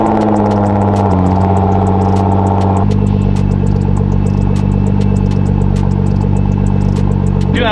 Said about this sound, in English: Let's get you guys a good cold start of this bad boy, so you guys know what it sounds like with just the exhaust.